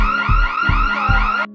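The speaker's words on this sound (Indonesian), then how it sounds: "Tapi siangnya pintu bar udah ditutup dan alarm berbunyi." An alarm rings loudly inside a bar in a film scene, a continuous electronic wail with three regular pulsing beats before it cuts off.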